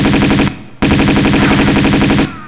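Rapid automatic gunfire from the video game Tomb Raider 2 comes in two loud, sustained bursts separated by a brief pause, with no talking.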